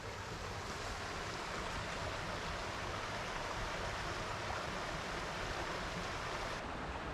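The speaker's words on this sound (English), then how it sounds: "The creek is running pretty good right now" Creek running high after storms, a steady full rush of flowing water with no pauses, even and fairly close, no voices.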